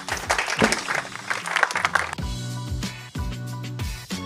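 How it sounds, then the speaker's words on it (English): An audience applauds at a live business office-hours show, a brief burst of scattered clapping that lasts about two seconds before music takes over. "Big round of applause for Antonio."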